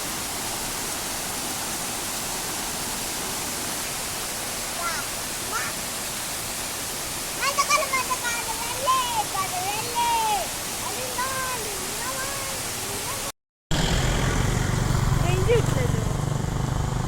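Waterfall in the Nelliyampathi hills gives a steady broadband rush of falling water; voices talk over it midway, and after a brief cut the roar returns louder and closer.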